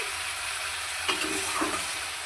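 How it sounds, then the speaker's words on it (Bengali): Eggs frying in hot oil in a pan, with a steady close sizzle and a couple of brief spatters or stirs over the hiss. "এবার ভাজতে থাকবো যতক্ষণ না ভাজা হবে"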